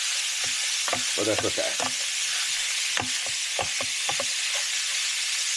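Ground beef, a bit over a pound, frying in a skillet over medium-high heat, a steady sizzle with stirring scrapes and clinks throughout, and a brief spoken remark early on.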